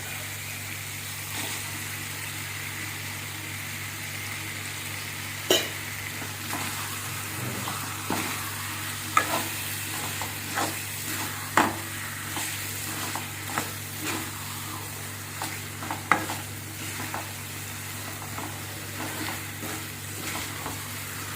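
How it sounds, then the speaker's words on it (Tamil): Roasted eggs turned through hot oil for an egg roast: a continuous low sizzle with irregular clatters and scrapes of a spoon stirring in the pan, several sharper knocks standing out. "இப்போ நம்ம ரோஸ்ட் பண்ணி வச்சுருக்கிற முட்டையை போட்டுக்கலாம்."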